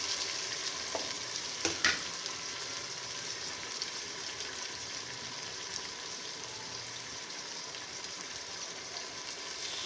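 Whole spices frying in a pan for a cauliflower and meat curry, a steady broadband sizzle throughout with a couple of brief clinks near the start, no talk.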